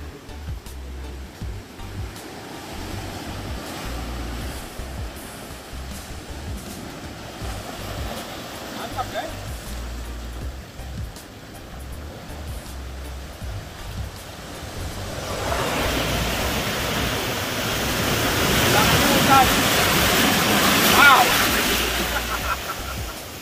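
Rushing water at Ciletuh roars as a broad, steady wash that swells louder in the second half, mixed with wind buffeting the microphone and faint voices in the background.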